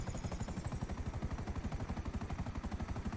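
Rapid, sustained automatic gunfire in Grand Theft Auto V Online, a rhythmic stream of sharp bursts, loud and continuous, with a faint high mechanical whine in the background.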